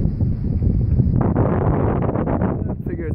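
Steady wind buffets the microphone outdoors beside the Peace River near Punta Gorda, a continuous loud rumble and roar that swells in gusts from start to finish.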